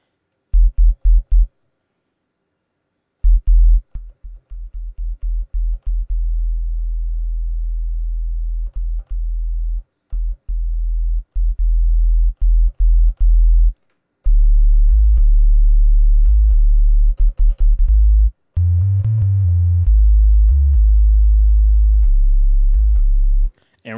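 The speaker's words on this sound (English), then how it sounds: "you pretty much have the 808 sound right there" Synthesized 808 kick drum built in Sylenth1, a deep sustained sub-bass boom repeated in bursts and short patterns with silent gaps, loud and alone, ending in a denser run of hits.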